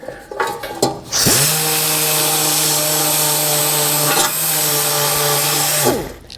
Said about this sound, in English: we're now ready for the 80 grit on a DA sander